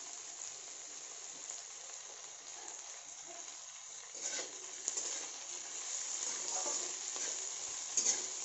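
Chopped green chilies fry in a pan with a steady, quiet sizzle, broken by a few louder scrapes and clicks of stirring toward the end.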